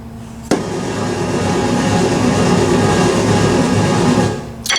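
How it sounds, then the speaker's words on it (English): A dense, roaring electronic EDM drone sample from an Alesis SamplePad 4 drum pad swells in abruptly and holds steady and loud for several seconds before cutting off, with no talk. "EDM drone."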